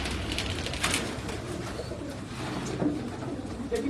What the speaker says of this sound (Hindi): ये कमंगर कबूतर है जी